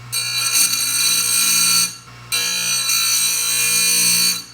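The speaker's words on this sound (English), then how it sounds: "I'm actually going to sharpen all 3 of my chainsaw blades" Chainsaw chains being sharpened give a loud, steady, high-pitched grinding whine in two long passes split by a brief pause, with no voices.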